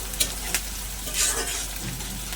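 Chopped onion and dried red chilli fry in hot oil for a Bombay duck (lote fish) curry, with a steady, close sizzle broken by a couple of quick stirring clicks.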